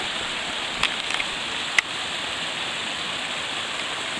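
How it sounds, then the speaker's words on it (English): A mountain river on a hiking trail near Mt Abraham, Maine, rushes steadily close by as a continuous broadband roar, with a few brief clicks near the start and no talking. "Did you hear that river? We got to cross it."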